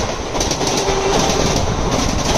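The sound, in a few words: Mumbai AC local train passing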